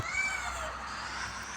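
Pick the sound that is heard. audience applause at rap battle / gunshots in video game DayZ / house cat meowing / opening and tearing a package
house cat meowing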